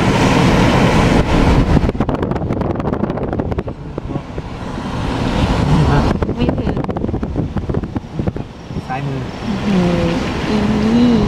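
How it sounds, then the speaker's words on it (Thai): A car descends a steep mountain road on Doi Phu Kha in Nan in low gear during the rainy season, its steady engine drone and road rumble close by, buffeted by heavy wind noise, with people talking over it. "เราใช้เกียร์ต่ำรับตรงนี้นี่เป็นทางชันลงไปนะ"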